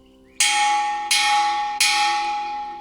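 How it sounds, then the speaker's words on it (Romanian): A bell at a Vipassana meditation retreat struck three times in even succession, each bright metallic strike ringing out clearly and decaying slowly into the next. "Și bineînțeles nelipsitul clopot."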